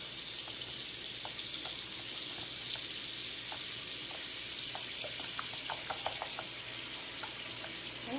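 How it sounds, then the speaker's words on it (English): Cold water runs steadily from a tap into a sink, a constant close splashing rush with small bubbling drips and clicks on top, no talking. "put about an inch of cold water in the sink"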